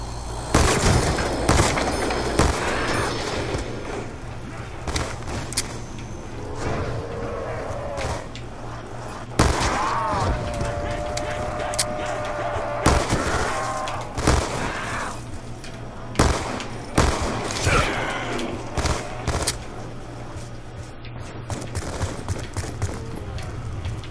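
Gunfire in Black Ops 2 Zombies: bursts of rapid weapon fire and sharp shots recur throughout, mixed with game effects, while players talk over the shooting.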